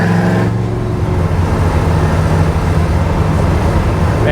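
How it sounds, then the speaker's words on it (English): A supercharged 1967 Camaro restomod with a Wegner LSX 427 V8 pulls hard up a highway on-ramp, a loud, close engine roar climbing steadily under acceleration with no talk. "This car is like exciting to push on an on-ramp."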